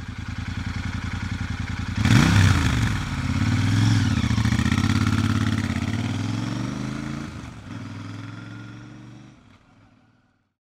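A Royal Enfield Himalayan motorcycle engine with a new ECU map idles with a steady thumping pulse, revs up loudly, holds, then slows and cuts off into silence.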